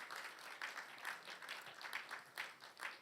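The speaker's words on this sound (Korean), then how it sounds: "우리 하나님께 영광의 박수 돌립니다." A church congregation applauds at a year-end Sunday service, a soft, fairly distant patter of many hands clapping in uneven bursts that rises and falls throughout.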